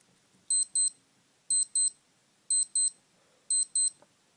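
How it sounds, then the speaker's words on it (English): A digital watch alarm goes off in sharp, high-pitched double beeps, repeating four times at a steady one-second rhythm, close and clear against a quiet background. "So that's what happens when the alarm goes off."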